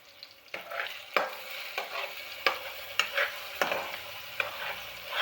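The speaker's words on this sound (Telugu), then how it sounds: "మరిగే తర్వాత కొంచెం ఉల్లిపాయలు వేసుకున్న తర్వాత అది ఉడికిన తర్వాత మీరు టమాటా వేసుకొని కొంచెం కలపాలి." Onions and tomato stirred and fried in a pan while fried rice is being made: a steady low sizzle broken by rhythmic spatula scrapes about every 0.7 seconds, close and fairly quiet, with no voices.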